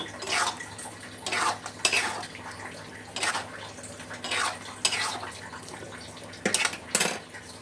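A spoon clanks and scrapes against a metal pan in repeated bursts as a spiced sauce is stirred and mixed on a gas stove, each stroke a few seconds apart with quiet gaps between.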